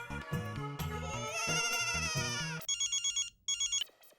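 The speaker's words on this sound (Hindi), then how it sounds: "भिड़े को फोन करता हूँ" A telephone rings with an electronic melodic tone, then switches to a rapid trilling ring in two quick bursts, loud and close.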